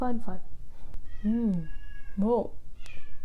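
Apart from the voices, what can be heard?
cat meowing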